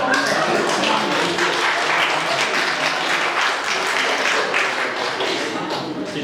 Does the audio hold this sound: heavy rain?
no